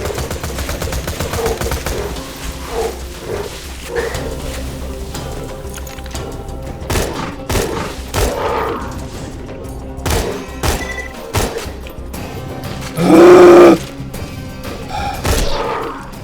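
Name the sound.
gunfire from a weapon in the video game Borderlands 2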